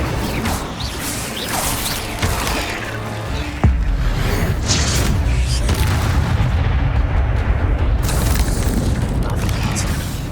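Fire spell cast in the Hogwarts Legacy video game, a sudden loud boom with a whooshing burst near the middle, over dense continuous rumbling game effects and low mechanical noise.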